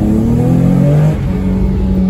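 Nissan 350Z HR engine held at high RPM, a loud close-up sustained rev with a steady tonal drone that dips briefly then picks back up.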